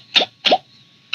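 A person imitates a bull elk's excited glunking call with the mouth. There are three short, hollow, throaty gulps, the first two close together and the third after a pause. They are heard alone, with no talk.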